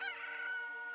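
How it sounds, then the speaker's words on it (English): A rooster in the video game Bone Marrow crows once at daybreak, a short, clear, fairly loud cock-a-doodle-doo standing alone with no talk. "So the rooster caw means that it's day."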